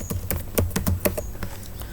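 Keys clack on a computer keyboard as text is typed into an MS Word document, a quick irregular patter of close, crisp strokes with no voice.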